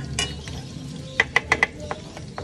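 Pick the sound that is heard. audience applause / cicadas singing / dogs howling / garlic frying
garlic frying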